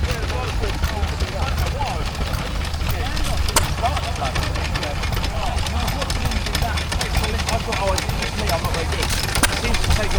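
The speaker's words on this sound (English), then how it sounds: "and another little engine there." A small stationary engine runs at a country show, a steady, even chugging close by that continues unbroken for several seconds, with faint voices in the background.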